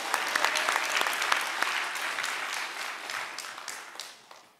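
Sustained audience applause inside a church hall during a new-member invitation seminar, a dense patter of many hands clapping at steady volume that gradually fades toward the end, with no voices over it.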